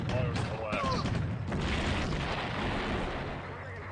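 Artillery fire in the tank simulator Steel Beasts Pro, heavy booming blasts with a rumbling roll that fills the whole clip, partly under a man's radio-style talk.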